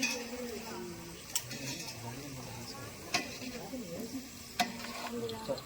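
Almonds frying in oil with stirring, a soft steady sizzle broken by a few sharp clinks of a utensil against the pan, recorded close in a home kitchen while voices murmur faintly in the background.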